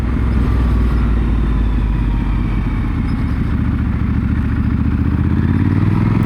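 A Triumph Scrambler 1200 XC motorcycle engine in sport mode, heard loud and close while riding, a steady throbbing rumble with wind noise throughout and no talk.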